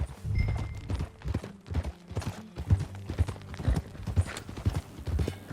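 Horse hooves clip-clop in a steady walking rhythm in Red Dead Redemption 2, close and fairly loud, with low game ambience beneath and no talk over them.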